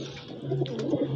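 A pigeon on a rooftop gives a short, soft, low cooing call close by, over a faint steady background hum.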